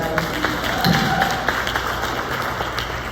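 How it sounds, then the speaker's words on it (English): A community leadership summit audience gives a round of applause, a diffuse, moderately loud patter of clapping that runs throughout, with voices mixed in. "let's give one more round of applause tonight"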